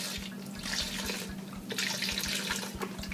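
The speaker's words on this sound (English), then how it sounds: "We're going to add half this can, or box thing, of the beef broth." Beef broth poured from a carton into a chili pot on the stove, a steady close liquid splashing stream running without a break for several seconds, with no talk.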